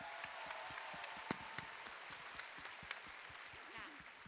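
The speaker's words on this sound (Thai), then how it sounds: "ขอเสียงปรบมือให้กับเดอะบอยทั้ง6คนด้วยครันบะครับ" A studio audience at a live children's singing competition claps for six young contestants, a thin, scattered patter with a few sharper claps standing out, heard faintly from a distance.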